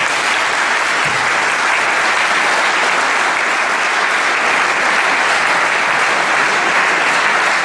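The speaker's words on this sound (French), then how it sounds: "je vais vous demander tous ensemble de faire quelques applaudissements pour l'ensemble des arbitres" Loud, dense applause from an audience at a general assembly, applauding the referees, sustained and even throughout with no speech over it.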